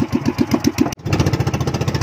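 An engine on a small fishing boat chugs steadily and loudly nearby, with a rapid knocking rhythm that briefly cuts out and then resumes slightly faster.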